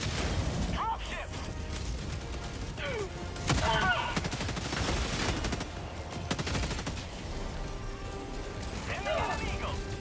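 Airburst Rocket Launcher fired repeatedly in Helldivers 2 combat, with sharp launches and bursting detonations over a dense, continuous roar of gunfire and mechanical clatter, a loud jolt near the middle, and a voice talking throughout.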